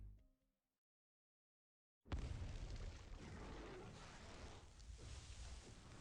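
Distant explosion in the video game Arknights, a sudden deep boom after near silence, followed by a sustained low rumbling roar that lingers for several seconds.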